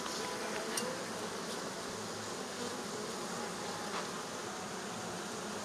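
Honey bees hum steadily around an open hive during an inspection, a dense continuous buzz close by with a few brief louder bees passing near.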